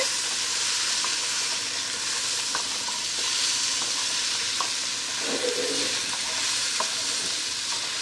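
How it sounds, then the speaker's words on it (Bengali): Pumpkin and potato pieces frying in a pan in a home kitchen, a steady soft sizzle with occasional light stirring clicks and scrapes, close and alone without talk. "আর এদিকে আমি করছি এই যে কুমড়ো আর আলুটা ভাজা, এটাও মোটামুটি হয়ে গেছে।"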